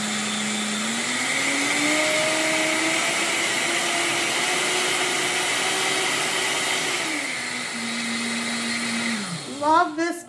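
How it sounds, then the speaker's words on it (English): An electric blender grinds pear and pumpkin treat ingredients down to a flour-like consistency, giving a loud, steady motor whir that shifts pitch a few times before winding down and stopping near the end. "Love this blender."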